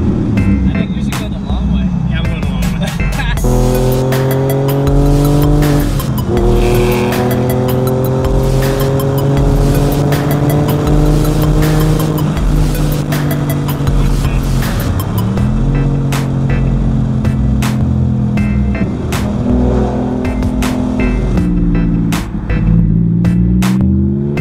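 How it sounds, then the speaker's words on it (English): A Porsche 911 driving, its engine loud and close as it climbs through gears with repeated rising pitch sweeps and shift drops, and voices appear to talk over the steady engine roar. "He's forcing us to take the 911 to get gas."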